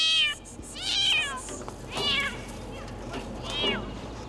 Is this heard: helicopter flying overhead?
no